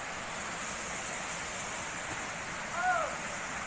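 A small waterfall at Durian Kuning village in Indonesia gives off a steady, even rush of falling water that fills the whole clip, with a brief higher whistle-like tone near the end.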